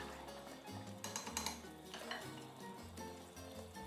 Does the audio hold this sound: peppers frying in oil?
yes